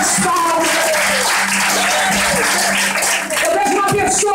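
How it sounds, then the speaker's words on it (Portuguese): Church congregation applauding during a Portuguese-language evangelical service, a loud continuous wash of clapping with a tonal voice or music line running underneath throughout. "Pode glorificar e aplaudir a Jesus Cristo"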